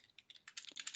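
Quiet, rapid keystrokes on a computer keyboard during a software demo, a quick irregular run of light clicks heard close and alone with no talking.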